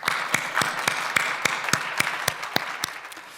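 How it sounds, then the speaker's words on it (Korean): A congregation applauds at a combined New Year dawn prayer service at a Korean church, a steady wash of many hands clapping with sharp, regularly spaced louder claps punctuating it, moderately close and without voices. "우리 다 같이 하나님께 큰 박수로 영광 돌리도록 하겠습니다."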